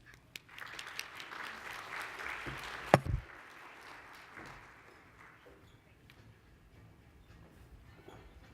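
An audience at a conference opening session applauds to welcome a speaker, a broad wash of clapping that swells quickly and then gradually fades out.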